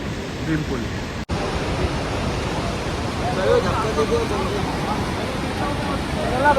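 Steady broadband rush of the Saraswati river flowing beneath Bhim Pul, a stone bridge near Mana village, loud and continuous throughout with a brief dropout near the start.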